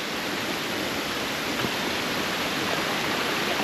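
A constant rushing of spring water flowing down from a hill of mixed earth and stone, dense and steady like a small stream or cascade, close by and uninterrupted, with nobody speaking.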